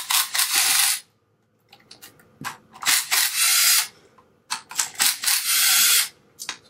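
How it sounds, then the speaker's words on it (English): Bolts are worked off the chamber head of a GX5 diaphragm pump with a ratchet, heard as loud, near, rapid clicking bursts with short silent pauses between them. "So we're going to take these bolts off."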